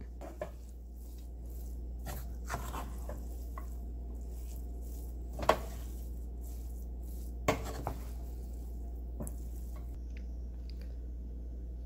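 Tamarind rice being mixed with coriander leaves in a vessel: a few scattered, soft scrapes and taps of a spoon over a low, steady background hum, fairly quiet throughout.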